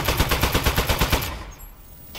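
A handheld gun in the video game Aperture Desk Job fires a fast, even burst of loud shots for about a second, then cuts to a fading tail and near quiet.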